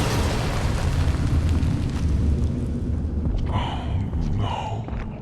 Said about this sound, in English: suddenly, a massive explosion occurs in the refuge.